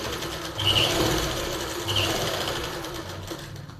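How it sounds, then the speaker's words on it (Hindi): A sewing machine stitches the lining of palazzo pants in short, close bursts of rapid mechanical whirring with rhythmic needle clatter, separated by brief pauses, with no voices. "इस साइड को और उस साइड को भी इस तरह से स्टिच कर लेंगे, जैसे हम सिंपल प्लाजो में स्टिच करते हैं।"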